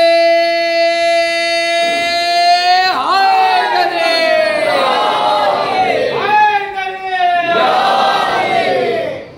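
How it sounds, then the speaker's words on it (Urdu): A large crowd chants political slogans in unison, with long sustained shouted calls rising and falling in several waves, loud and close. "نعرے"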